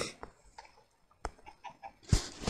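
Blocky chicken clucks from Minecraft Pocket Edition, a few short faint calls spaced across a quiet stretch, with a louder burst of game noise near the end.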